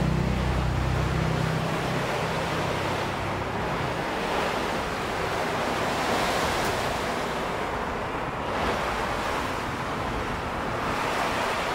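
Strong typhoon wind roars with heavy rain in Bicol, the Philippines, a dense continuous broadband rush that swells and eases in gusts for the whole stretch, close and loud with no talk.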